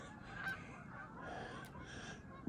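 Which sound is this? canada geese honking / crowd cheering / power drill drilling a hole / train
canada geese honking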